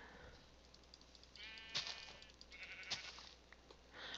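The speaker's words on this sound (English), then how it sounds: "We have found sheep." Sheep bleat in the Minetopia video game, two short distinct bleats about a second apart over faint background hiss, with no talking.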